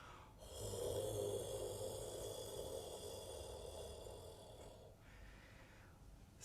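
A voice imitates a cat's purr with a sustained, rumbling throat rasp lasting about four seconds, close and steady.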